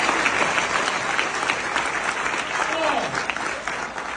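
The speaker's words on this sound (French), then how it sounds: "Mais en passant à applaudir très fort le Canada" A live comedy show audience in Montreal applauds loudly, a sustained dense clatter of clapping from a large crowd, with a voice speaking over it.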